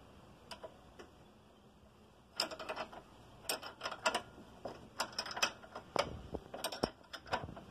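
5 mm Allen key working against a nut while tightening a car stabilizer link, giving sharp metallic clicks and ratcheting ticks in irregular bursts, close and fairly quiet, with no talking.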